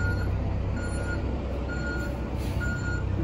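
A truck backing up at a home construction site sounds steady, evenly spaced reversing beeps over a loud engine rumble, close by, with no talking.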